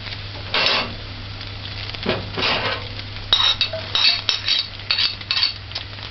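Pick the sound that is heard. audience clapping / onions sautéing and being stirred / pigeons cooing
onions sautéing and being stirred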